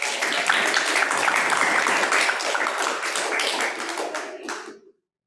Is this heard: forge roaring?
no